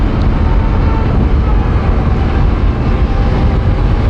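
A Honda Dio scooter fitted with an aftermarket silencer exhaust rides past, its loud, steady engine roar blending with road and wind rumble throughout.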